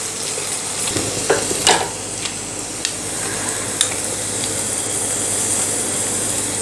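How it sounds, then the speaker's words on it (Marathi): Diced potato and green chilli sizzle in hot oil tempering for a millet upma, a steady frying hiss broken by a few sharp crackles and stirring clinks, close and fairly loud. "बटाटा आणि हिरवी मिरची छान परतलेली आहे"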